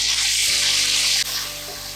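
Onion and tomatoes sautéing in a pan for paneer biryani, a loud continuous hissing sizzle up close, broken by a brief dip partway through before settling to a slightly softer steady fry.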